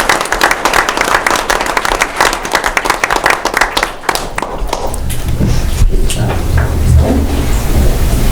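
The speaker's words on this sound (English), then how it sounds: "Again, please give them a big round of applause." A school board meeting audience applauds students, with dense, loud clapping for several seconds that thins out and gives way to rumbling room noise and shuffling.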